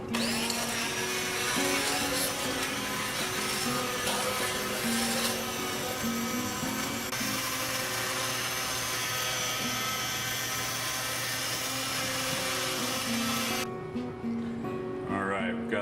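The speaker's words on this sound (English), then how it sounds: "we're going to knock this down a little bit with our immersion blender" An immersion stick blender whirs loudly and continuously while blending hot cranberry sauce, its motor pitch shifting slightly, before cutting out near the end.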